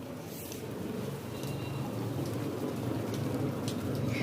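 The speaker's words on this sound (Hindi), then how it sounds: "बारिश बहुत बढ़िया हो रही है" Heavy rain falls steadily in Shimla, a dense, constant hiss of drops on surfaces close by, with a few sharper drips and no talking.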